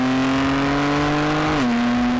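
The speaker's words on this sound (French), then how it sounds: "juste entendre le bruit du 6 cylindres. Magnifique, le S55" A BMW M4 CS with its S55 six-cylinder engine holds a steady, loud mechanical drone close by. Its pitch dips slightly near the end, and no voices are heard.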